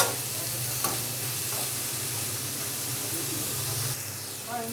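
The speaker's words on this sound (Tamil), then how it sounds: "இது நல்லா வதங்கி வறுத்தணும்." Onions sautéing in a pan with a little salt, a constant close sizzle with periodic stirring scrapes and light spatters, moderately loud throughout.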